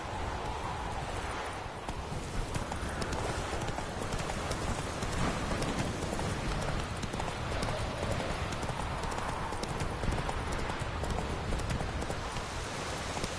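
Horse hooves clip-clop steadily through a ride in a PS4 game, a continuous loud patter over a dense wash of ambient game noise, with no break in the rhythm.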